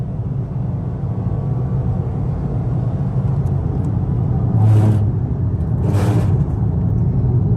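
A Toyota Corolla with the 1.8 engine accelerates on the road, a steady loud rumble of engine and road noise with two brief brighter swells of passing traffic or wind near the end.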